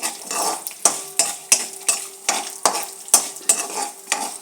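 A tempering of urad dal, mustard seeds and cumin fries in hot oil for an Andhra-style poha pulihora, with a spoon scraping the pan in steady, regular strokes over a constant sizzle.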